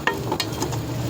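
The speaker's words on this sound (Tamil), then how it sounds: "ஸோ நல்லா வதங்குது, வாசனையே தெரியுது." Onion, mustard seeds and curry leaves sauté in hot oil with a steady, loud sizzle, punctuated by a few short stirring clicks.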